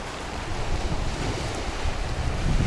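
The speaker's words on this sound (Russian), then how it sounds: "И здесь прям так сильно бьют волны." Waves beat against the shore of the gulf at Saint Petersburg under a strong wind, a dense continuous roar of surf and gusting wind noise close to the microphone, with no talking.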